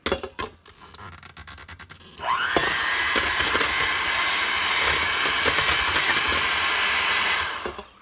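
Electric hand mixer whirring steadily through coffee cake batter, starting after a couple of seconds of quiet kitchen clatter, then running loud and continuous close by until it winds down at the end.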